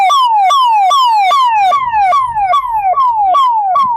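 An ambulance siren wails on the rough road from Dhoraji to Upleta, a loud repeating falling tone cycling about every half second, close by, with low road and engine rumble underneath.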